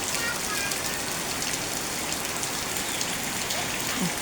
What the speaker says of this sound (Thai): ฝนตกลงมาพี่น้องเอ้ย